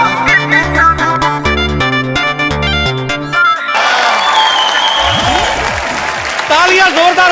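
A studio audience on a comedy talk show bursts into loud, sustained applause and cheering after a short burst of music, with voices talking over the clapping.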